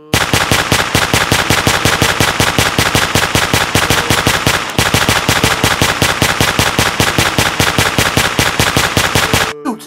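Rapid automatic gunfire in a video game, a loud nonstop burst of evenly spaced shots aimed at a zombie, running almost ten seconds with only a brief hitch midway.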